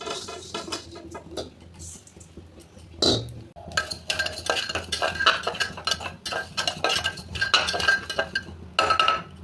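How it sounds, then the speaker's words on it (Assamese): Moong dal dry roasting in a kadai over a gas flame, with a spoon scraping and stirring against the pan in repeated close, clattery strokes and a soft sizzle beneath. "মগু দালি অলপ শুকানকৈ মই ভাজি ল'ম।"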